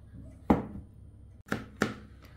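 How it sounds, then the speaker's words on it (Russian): Three sharp knife chops strike a cutting board while finely chopping chicken breast, spaced unevenly, close and crisp, with quiet room noise between them. "Нашинкую как через терку,"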